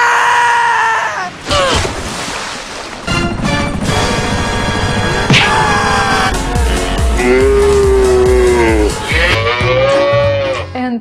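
A cartoonish cow moos repeatedly in a farm video game, the bellowing calls sliding up and down against busy game music and effects, with a low rumbling passage that sounds like engine or racing noise.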